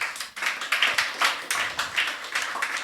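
Congregation clapping in a church worship service, loud rhythmic hand claps in a steady beat, close and clear, with no talk over them.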